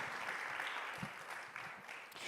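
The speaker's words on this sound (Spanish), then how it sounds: "Si puede darle sus palmas al Rey, désela con toda libertad." A church congregation claps in praise during a worship service, a steady, moderately distant wash of many hands applauding together at an even rate.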